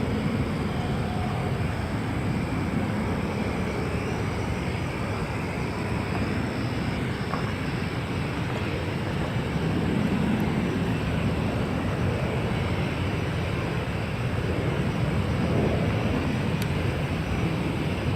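An airliner takes off from a runway at Austin-Bergstrom airport, a broad steady jet roar heard from a distance that holds at a fairly even loudness throughout.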